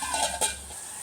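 Mutton curry sizzling steadily in a pan, with a soft continuous frying hiss and a brief stir partway through. No voices.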